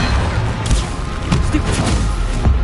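Bombarda explosion spells bursting in a Hogwarts Legacy fight, several sharp crashing blasts over dense battle noise, with a voice briefly heard.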